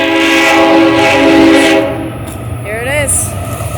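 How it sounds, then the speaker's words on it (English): A BNSF freight train passes through the Ephrata, Washington Amtrak station, its loud, close horn blaring in a sustained multi-tone blast over rumbling wheels, then fading as the train rolls on. "There is a train again."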